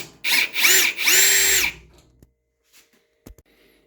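A power drill whirs in three quick bursts, the last one longer, as it backs screws out of the top of an LG front-load washer, followed by faint clicks and handling sounds.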